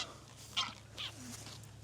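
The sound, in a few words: geese honking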